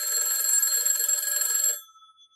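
A telephone bell rings steadily on a phone line simulator used for testing dial-up modems and pulse dialing, then cuts off abruptly partway through as the call is answered.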